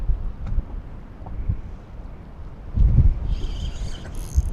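Strong wind, about 20 miles an hour, buffets the microphone while fishing a wing dam on the Mississippi River near La Crosse, a steady low rumble that swells into heavier gusts partway through.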